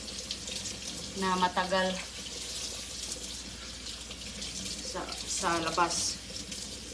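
Water runs from a tap outdoors while a container is filled for a pet duck, coming in two splashing bursts with a quieter stretch between, as a person talks over it.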